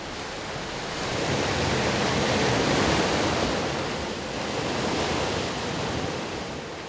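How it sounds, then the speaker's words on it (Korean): Sea waves crash against the coastal rocks of Neungpadae in Goseong on Korea's east coast, a continuous roaring wash that swells and fades gently with no voices. "부딪혀오는 파도 소리에 귀를 열고 있느라면"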